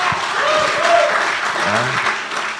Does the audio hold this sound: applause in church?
yes